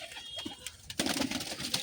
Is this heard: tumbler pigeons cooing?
yes